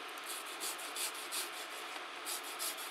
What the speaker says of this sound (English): I'm going to grate this onion in here